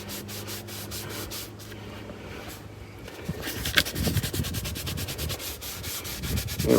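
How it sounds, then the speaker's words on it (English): Brush or towel scrubbing on car interior upholstery during detailing, a close, rhythmic rubbing that grows louder and more vigorous in the second half, with no talk. "Just need a little extra scrub in there."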